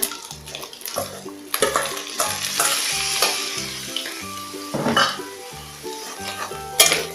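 Meatballs, napa cabbage and vegetables stir-frying with noodles in a pan, a steady sizzle broken by repeated scraping and clinking of a utensil against the pan, close and loud, with a light music bed underneath.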